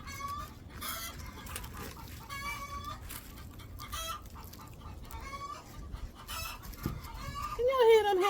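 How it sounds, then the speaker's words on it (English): Hens are clucking and fussing near a garden during a cabbage harvest, with repeated agitated calls rising and falling and a louder squawk near the end. "Can y'all hear them hens?"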